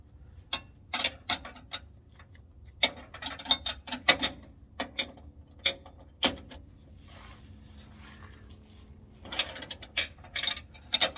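Ratchet clicking in short separated bursts while tightening a skid bolt on a vehicle's lower control arm skid plate, a steady stretch in the middle and a denser cluster of clicks at the end.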